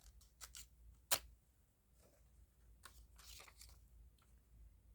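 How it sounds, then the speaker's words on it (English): Scissors trimming paper for a collage, cutting away an envelope with stamps to keep the tickets: one sharp, loud snip stands out amid soft rustling and faint handling noises. "I'll trim that bit off"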